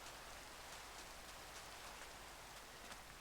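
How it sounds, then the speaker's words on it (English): Steady rain in Minecraft falling over a desert area, a continuous even hiss of drops that stays constant throughout with no voices. "It is raining outside the desert."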